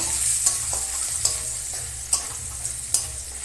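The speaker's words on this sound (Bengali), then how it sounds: "এগুলো একটু লাল করে ভেজে নেব" Garlic and radhuni seeds fry in oil for a tempering for prawn and water spinach curry, a close steady sizzle punctuated by a few sharp spoon taps and stirs.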